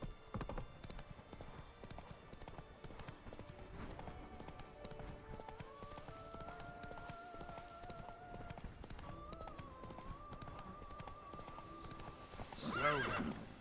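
In The Witcher 3, the horse clip-clops along at a steady gait, fairly quiet under a game soundscape with musical tones, and a brief whinny or louder burst near the end.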